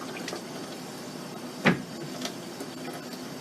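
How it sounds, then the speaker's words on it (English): Hands being rinsed under running water after mixing plaster gesso, a steady soft hiss of flowing water with one brief splash partway through. "Wash my hands off here real quick."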